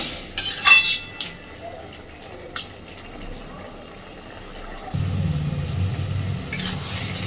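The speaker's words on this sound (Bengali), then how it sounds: "এইভাবে নাড়াচাড়া করতে করতে পুরো জলটা যতটা জল বেরোচ্ছে পুরো জলটা শুকিয়ে নেব" Bottle gourd and shrimp stirred in a pan with a spatula, scraping and clinking against the metal, then a steady soft sizzle of frying rises in the later part.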